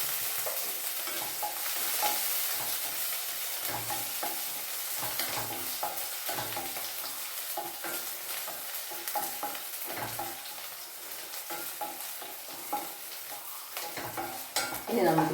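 Ginger, green chilli and curry leaves sizzle steadily in a hot pan, with a spoon stirring and scraping at intervals, close and fairly quiet with no talking.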